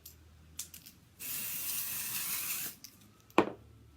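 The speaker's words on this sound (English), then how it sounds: "I'm gonna put some more dry shampoo in just to give it some oomph." Dry shampoo sprays into hair in one steady hiss lasting about a second and a half, framed by faint handling clicks, with a sharp knock near the end.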